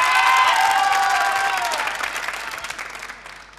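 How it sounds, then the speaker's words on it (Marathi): A stage audience at a televised saree-special game show breaking into loud applause for Narendra-ji, a dense wash of clapping with a few cheers and trailing whistles that gradually fades out. "पुन्हा एकदा जोरदार टाळ्या नरेंद्रजींसाठी"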